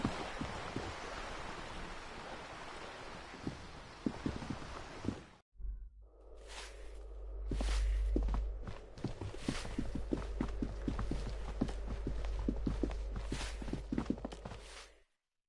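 Footsteps climbing a staircase in the video game Disco Elysium: a quiet run of even, regular thuds that begins after a short pause, over a low rumbling background.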